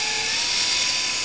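A Cyclone 1000-watt electric bicycle motor with new magnets spins on the bench, giving a loud, steady high-pitched whine that holds constant for the whole moment.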